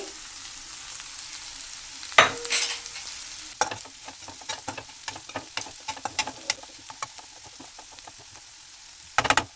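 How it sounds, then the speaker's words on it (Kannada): Vegetables for vermicelli upma fry on a high flame while being stirred briskly: a soft sizzle sits under repeated sharp clicks and scrapes of a utensil against the pan, with louder clatters near the start and end. "ಈಗ ಫ್ಲೇಮ್ ಜಾಸ್ತಿ ಮಾಡಿಕೊಂಡು ಬೇಗ ಬೇಗ ಫ್ರೈ ಮಾಡ್ತೀನಿ"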